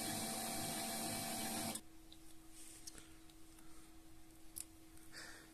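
An HP laser printer, just reassembled after a fuser repair, whirs loudly and steadily, then drops to a quieter hum with faint clicks and ticks.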